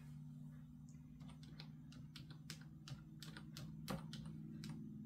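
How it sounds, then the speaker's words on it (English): Computer keyboard typing at a desk, a string of quick, irregular clicking keystrokes, close and fairly quiet, over a steady low electrical hum. "Move my coffee cup over so I can type."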